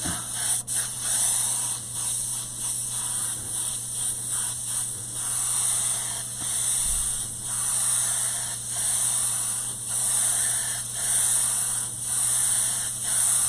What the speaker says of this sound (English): I am actually going to spray it with a red or a yellow first.